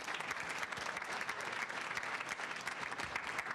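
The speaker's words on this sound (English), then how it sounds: "Let's give Mercelata a hand clap." Audience applause at a 2013 Alpha Beta Omega convocation ceremony, a full room clapping steadily and densely throughout without pause.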